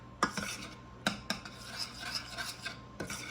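A utensil stirs a chocolate snack mixture in a bowl, making close, repeated scraping clinks and soft rubbing strokes in an uneven rhythm, with no voices.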